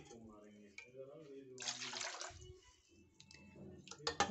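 Water splashes and rushes into a drain at home during tea-making, a brief, fairly loud burst lasting under a second with people talking before and after.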